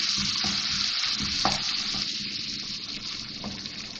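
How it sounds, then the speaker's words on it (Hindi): Spices fry and sizzle in a pan with mashed tomatoes, a steady crackling hiss broken by soft scraping and stirring knocks from a spoon, close and continuous with no voices. "और भूनती भी जा रही हूँ मसाले को मैं।"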